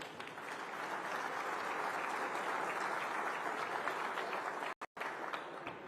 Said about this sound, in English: just a nice round of applause for all the volunteers who helped out to make this morning's event possible